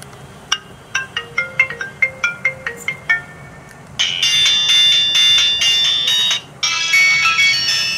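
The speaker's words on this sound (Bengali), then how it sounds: "আর আমরা বরাবরের মতো যদি ফোনটির রিংটোনের সাউন্ড একটু শুনি, তাহলে দেখতে পাবো যে সাউন্ড কতটা প্রবল ছিল।" A Baytow BS500 keypad phone plays its ringtone loudly and close: a run of bright electronic beeping notes in a quick rhythm, then a denser sustained chiming melody that breaks off briefly and resumes.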